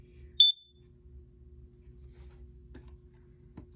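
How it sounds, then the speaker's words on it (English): A Kidde Nighthawk KN-COPP-3 plug-in carbon monoxide alarm, made in 2009 and failing after a few years, lets out one short, sharp high-pitched beep. A quiet background hum and a couple of faint clicks follow. "Oh, I'm surprised it's only beeping once."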